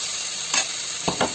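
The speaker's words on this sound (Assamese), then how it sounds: "এয়া আলুখিনি ধুনীয়াকৈ ভাজি ল'লোঁ" Boiled potatoes fry with spices in a pan, giving a loud, continuous close sizzle with two or three quick stirring scrapes near the end of a brief moment.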